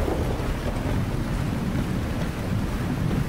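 Steady rain and thunder ambience from the farming game Lightyear Frontier, a continuous broadband wash of falling rain with low rumbling underneath, even and unbroken throughout, with no voices.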